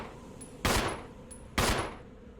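A handgun in Resident Evil HD Remaster fires twice at a slow, regular pace, each loud close shot followed by a short fading tail and a thin high ring.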